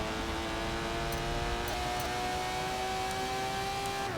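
Aston Martin DBR9 race car engine in a racing video game at Hockenheim, holding a steady high whine that rises slightly in pitch partway through, at a moderate level with no voices.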